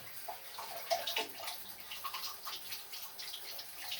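Water from a hose draining an electric water heater during internal cleaning runs and splashes steadily, with faint irregular trickling throughout.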